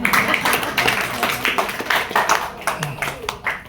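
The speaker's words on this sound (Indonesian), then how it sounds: "Waduh, tepuk tangan dong." An audience at a medical talk on physiotherapy devices claps their hands in loose, uneven bursts, mixed with people talking throughout.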